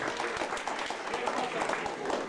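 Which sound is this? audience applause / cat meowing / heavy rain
audience applause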